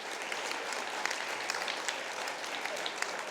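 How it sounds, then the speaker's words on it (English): An AUSCERT conference audience gives a round of applause, steady dense clapping from many hands, even in level from start to finish. "please a massive AUSCERT round of applause for Adam Spencer"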